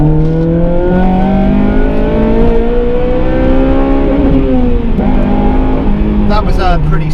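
A 2-litre car with a Japspeed catback exhaust held in second gear, engine revving up in a loud rising drone that dips and climbs again, close to the microphone with a rough, throaty rasp.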